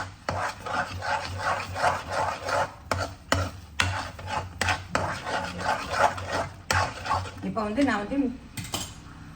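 Custard halwa stirred in a pan with a spoon, a steady rhythmic scraping and rubbing repeated about once a second, close and fairly loud, with a few sharper knocks and a short burst of faint voice near the end.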